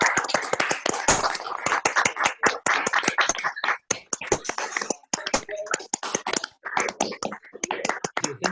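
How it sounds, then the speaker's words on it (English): Scattered applause from a small group of online participants for Rajeev Bhai after his talk, uneven overlapping claps of varying loudness, close and sharp, continuing for several seconds with no talking. "give a round of applause to Rajeev Bhai"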